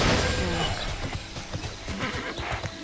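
A horse in the online game Tera gallops with steady rhythmic clip-clop hoofbeats and a whinny over a continuous background music bed.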